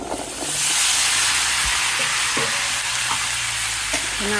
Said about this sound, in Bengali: পেঁয়াজটা একটু লাল লাল হয়েছে এখন সবজি দিয়ে দেবো